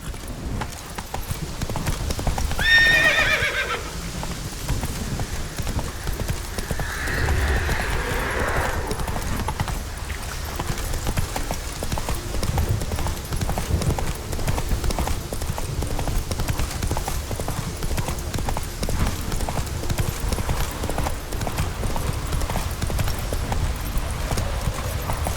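Steady hoofbeat clip-clop of a horse galloping in The Witcher 3 video game, continuous and fairly loud for the whole stretch, with a brief whinny-like call near the start and no talk.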